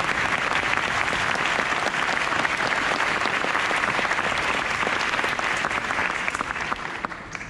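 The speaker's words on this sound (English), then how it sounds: "So it's a round of applause for our graduates." Broad, full applause from a large audience greets graduates at Columbia University College of Dental Medicine's 2019 postdoctoral graduation ceremony, dense and continuous before easing slightly in the final second.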